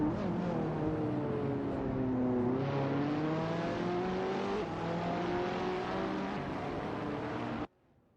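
Race cars engines in a racing video game at Road America, a loud continuous roar with rising and shifting revs as cars accelerate, sustained throughout and cutting off abruptly near the end.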